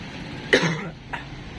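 One sharp cough, followed a moment later by a softer second cough, close by in a quiet room.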